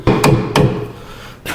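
A hammer strikes a screwdriver being used as a chisel, two sharp metallic whacks a short pause apart, then a third hit starting at the end, close and loud.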